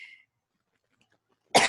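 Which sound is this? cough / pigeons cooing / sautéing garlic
cough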